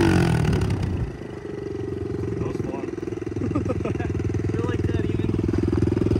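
A carbureted KLX110 or CRF110 dirt bike engine running at a steady, loud high idle, close by, with a fast even putter throughout after a brief louder burst at the start.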